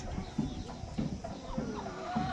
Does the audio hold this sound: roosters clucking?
yes